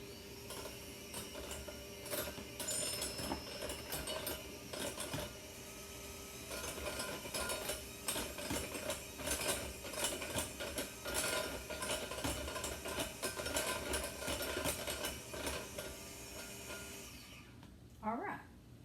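Batter for low-carb zucchini apple muffins is beaten in a bowl, a busy mechanical whirring and clattering of a mixer or whisk against the bowl that runs continuously, close and fairly quiet, then stops just before the end.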